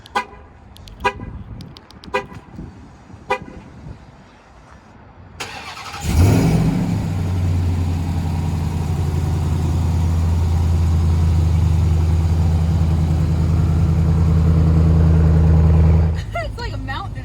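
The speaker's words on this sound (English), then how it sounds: "Little cold start here." A 2021 RAM TRX truck engine cold-starts after a few knocks and clicks, catching with a loud burst and settling into a deep, steady, rumbling high idle that runs for about ten seconds before cutting off.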